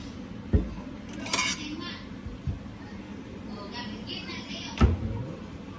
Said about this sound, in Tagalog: Kuha tayo ng pinggan